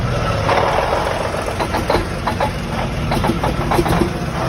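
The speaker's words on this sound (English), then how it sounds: "the last most common issue in the Cummins N14 is camshaft positioning sensor, and when it's going out, it kind of sounds like this." Cummins N14 diesel engine running with a failing camshaft position sensor, a steady rough idle with uneven knocking pulses and clatter, close and continuous.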